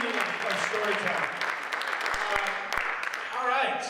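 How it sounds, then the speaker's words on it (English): An audience at an evening folktale storytelling event applauds the storytellers, dense steady clapping with a few louder claps and some voices mixed in, filling the room throughout. "one more big round of applause for all the storytellers"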